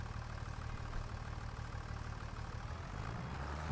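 A farm tractor's engine idles steadily at close range, a constant low rumble with no talk over it.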